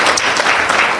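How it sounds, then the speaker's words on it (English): A congregation at a prophecy service claps hands together in a dense, loud burst of applause that fills the short moment evenly. "Let's clap hands for Zambia, the Zambian people."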